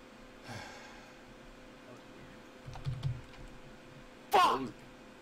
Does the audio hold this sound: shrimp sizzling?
no